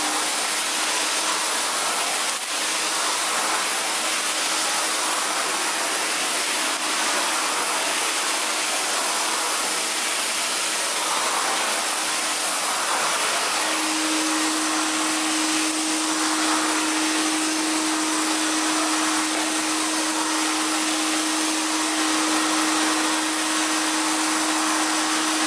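A Compact C9 Tristar canister vacuum cleaner from the 1970s runs steadily as it is pushed along carpet, a loud, unbroken motor whoosh with a steady tone that appears midway and holds to the end.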